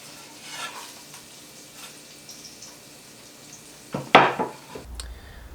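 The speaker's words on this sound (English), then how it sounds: "Alright, butter in, garlic's going to go in." Garlic sizzles in melted butter in a pan, a steady low frying hiss with soft stirring, then a sharp burst of louder sizzle and clatter near the end as the garlic hits the hot butter.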